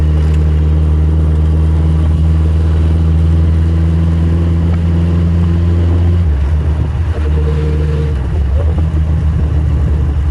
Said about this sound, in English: If you were wondering about the bike's gearbox, let's put it in top.